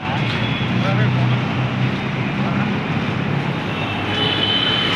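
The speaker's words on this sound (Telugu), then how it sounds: "పైనుంచి ట్రైన్ పోతుంది" A continuous heavy rumble from a metro train passing overhead fills the clip, loud and steady, with a voice speaking over it.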